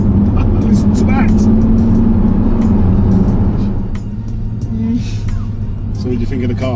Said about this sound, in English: I'm going to enjoy this Bentley while the weather allows it.